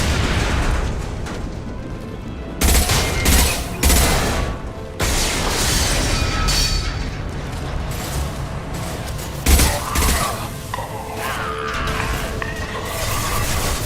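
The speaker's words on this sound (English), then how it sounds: "Firing concussive shot." Concussive shot gunfire and blasts in the Mass Effect 2 video game, a dense, loud wash of booms, crashes and bursts of combat noise throughout, with several sharper impacts standing out.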